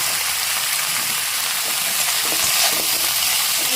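Vegetables and curry leaves frying in a pan make a steady close sizzle, with light stirring scrapes and crackles rising midway, no talk.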